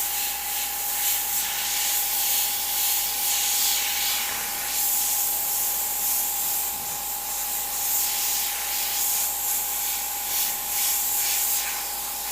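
An airbrush sprays candy paint in a steady, close hiss with a faint whistling tone, the airflow swelling slightly at moments while it stays continuous and alone.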